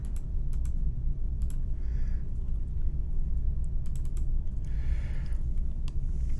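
Computer mouse clicks in a 3D modeling session, a few sharp quick double clicks spaced irregularly over a steady low hum, no talk.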